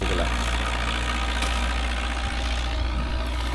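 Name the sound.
tractor trolley engine idling at sugarcane field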